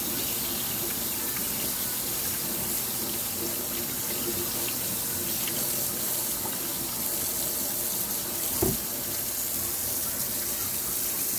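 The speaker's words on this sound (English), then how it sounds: "I'm going to wash my hand real quick" Tap water running into a kitchen sink while flour-covered hands are washed; a steady, close gushing stream fills the whole stretch, with a brief splash near the end and no talking.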